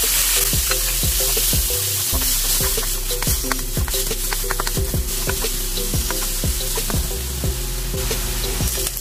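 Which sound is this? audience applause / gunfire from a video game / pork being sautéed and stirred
pork being sautéed and stirred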